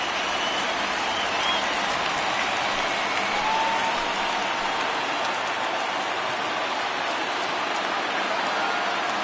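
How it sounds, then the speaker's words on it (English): A stadium crowd in the MLB The Show baseball video game roars and cheers during a late rally, a dense, steady wash of noise that holds throughout with no pauses. "listen to this crowd now. They are really into this."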